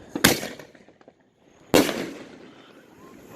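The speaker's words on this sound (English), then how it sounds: "Aerial firelight works. So we're going to light some off here in a minute." Two loud aerial firework mortar bursts in South Carolina, each a sharp blast with a crackling tail, spaced about a second and a half apart and heard from fairly close.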